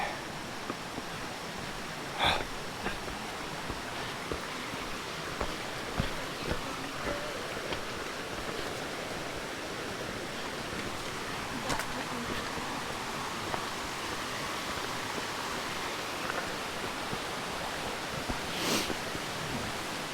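Pīpīwai Trail creek in Kīpahulu, Hawaii, flows nearby, a constant broad rushing wash with no pauses and a few faint knocks and rustles in the background.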